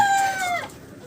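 Chickens in a coop section holding over four hundred birds, with a rooster's loud drawn-out crow close by that fades into soft clucking and general flock noise.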